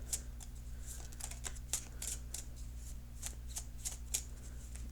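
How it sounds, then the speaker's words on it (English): Cards being shuffled in a steady run of crisp riffling snaps, close and fairly quiet, over a low constant hum. "So I'm shuffling the cards."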